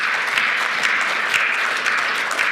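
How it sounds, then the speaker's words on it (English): A conference audience applauds in a steady, dense wash of clapping that holds at even loudness from start to finish, with no voices over it. "So let's give a round of applause for all of those people."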